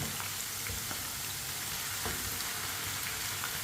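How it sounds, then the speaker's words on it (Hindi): Potatoes frying in a pan for a karela aloo sabzi, stirred with a spoon: a steady, dense sizzle runs throughout, with a few soft scrapes of the spoon against the pan. "आलू को ना इसी तरह चम्मच चलाते हुए पकाना है"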